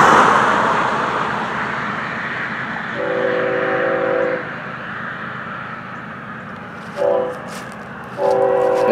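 FEC202 freight train rolls past at close range with a loud, steady rumble, its horn sounding in several long blasts, the later ones shorter and separated by brief gaps.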